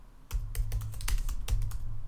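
Keys tapped on a MacBook keyboard while typing a search query, a close burst of quick irregular clicks with short pauses and no voices.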